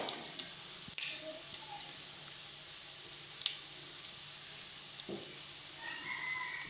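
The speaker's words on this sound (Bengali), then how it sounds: "দেখো পেঁয়াজ ভাজা ভাজা হয়ে এসছে।" Onions frying in a pan for a katla fish roe dish, a soft continuous sizzle with faint stirring scrapes and small clicks, quiet and close.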